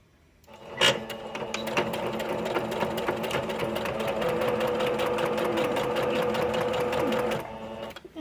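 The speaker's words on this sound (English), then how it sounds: "So you're going to sew 1/8 of an inch on each side." A sewing machine stitches fabric in a fast, even mechanical patter, close and steady for about seven seconds after a single thump at the start.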